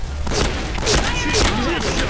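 A few heavy blasts thud through a shooter video game, roughly one every half second, largely buried under a man's loud, animated talking.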